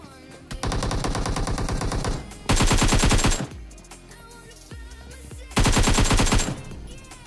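Automatic gunfire in the video game PUBG Mobile, three loud sustained bursts of rapid shots separated by quieter gaps with a few single shots, close and dominant.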